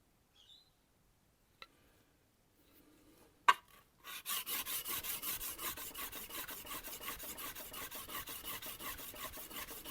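A wood chisel is rubbed back and forth in a steady rasping rhythm of even strokes, close and alone after a few light knocks and a sharp tap.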